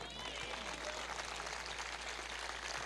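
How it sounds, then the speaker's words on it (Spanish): A church congregation applauds during a sermon, steady distant clapping at a low level throughout with a faint murmur of crowd noise. "Denle un aplauso al Señor."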